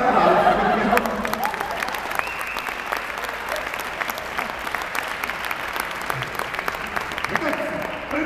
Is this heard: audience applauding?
yes